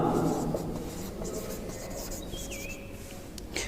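A pen writing by hand on paper, a close continuous scratching and rubbing of the nib with short strokes and brief pauses, alone without speech.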